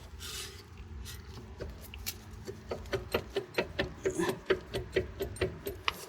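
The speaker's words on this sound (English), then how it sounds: "So at this point, we can start to wiggle at the caliper." A rear brake caliper on an Alfa Romeo Stelvio is worked back and forth by hand, giving a run of short metallic clicks and scrapes that quicken and grow louder into a steady rattling rhythm.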